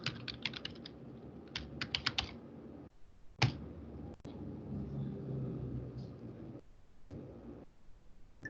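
Keys clatter on a computer keyboard as a password is entered at a login screen, a quick burst of close taps followed by scattered single presses over a low background rumble, with no talking.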